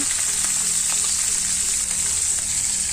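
Onions and green chillies fry in a pan as part of a chicken dish, giving a steady, dense hiss that runs unbroken and fairly loud throughout, with no voices.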